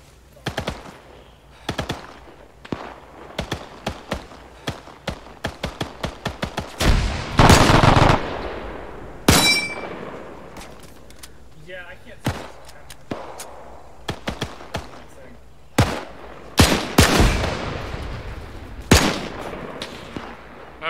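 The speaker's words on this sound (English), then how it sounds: "Then there's a machine gun behind one of the sandbags." Bursts of machine gun fire crackle through a WW2 D-Day battle on Gold Beach in the video game ArmA 3, with rapid rattling volleys, heavier single blasts and short pauses between, loud and close.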